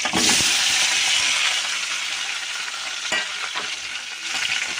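Chopped green chillies and tomatoes frying in a pan for tomato chutney give a dense, hissing sizzle that holds steady, with a few brief scrapes from stirring and no talking.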